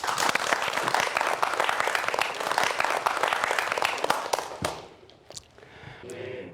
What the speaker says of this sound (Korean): 여러분 박수로 청해보도록 하겠습니다